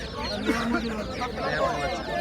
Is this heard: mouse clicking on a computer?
no